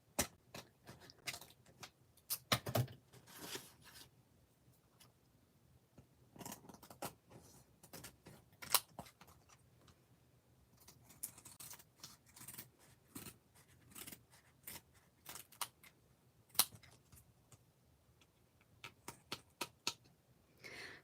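Repeated crisp snips of scissors cutting, in irregular bursts with short pauses between, close and fairly clear over a quiet background.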